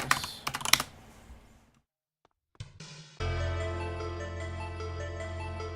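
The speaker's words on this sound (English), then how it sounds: "Y'all are just gonna hear the keyboard." Computer keyboard keys clatter in quick close bursts of typing, then go quiet before a few more taps, with a steady hum taking over afterward.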